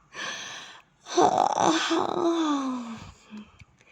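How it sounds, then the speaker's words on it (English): Two drawn-out yawns, close up, each voice rising and then sliding down into a long, sighing exhale. "Boys and girls began to yawn."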